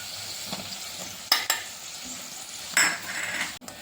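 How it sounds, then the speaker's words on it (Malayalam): Garlic sautéing in hot oil for a garlic pickle as Kashmiri chilli powder goes in, a steady close sizzle broken by a few sharp scrapes and knocks of a spoon stirring against the pan. "ഇനി ഇതിലേക്ക് നമുക്ക് മൂന്ന് table spoon Kashmiri chilli powder ചേർത്ത് കൊടുക്കാം"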